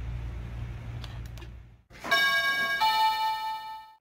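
Doorbell at a clinic check-in window, a two-tone electronic chime ringing out clearly and close after a brief low hum, its bright tones sustaining and layering to the end.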